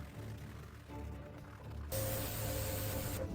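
Spray paint hissing on as a new coat, a steady bright hiss that starts suddenly midway after quiet mechanical handling sounds, fairly close, with no voices.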